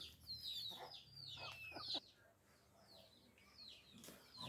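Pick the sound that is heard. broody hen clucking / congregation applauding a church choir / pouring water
broody hen clucking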